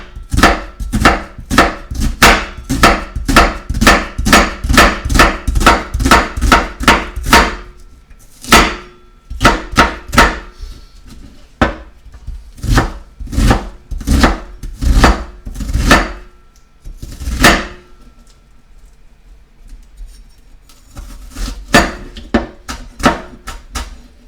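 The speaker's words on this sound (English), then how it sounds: "we're going to cut it with my standard cutting knife here" A standard kitchen knife chops lasagna ingredients on a cutting board in loud, rapid, rhythmic thuds. A long steady run breaks into irregular clusters of strikes, then a quieter stretch before a final flurry of close chops.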